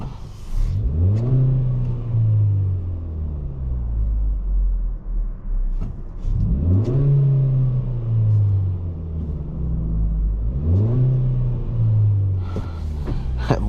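A 2023 Kia Forte GT accelerates on the road, engine and exhaust rising in repeated revving pulls through the gears, loud and close from inside the cabin, with a deep rumble between pulls.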